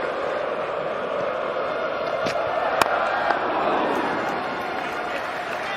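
Large cricket crowd at a Headingley test match, England v India, a sustained roar of noise swelling from a distance, with a few sharp claps or bangs standing out.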